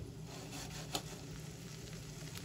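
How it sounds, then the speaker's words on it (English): A smoked pork chop sizzling in butter in a pan: a soft, steady frying hiss runs continuously at low level, with one small crackle partway through. "it's sizzling"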